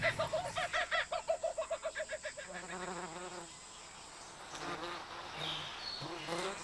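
Australian wasps buzz close by, starting with a loud pulsing drone that throbs in rapid rhythm, then easing into a softer, wavering hum with shifting pitch.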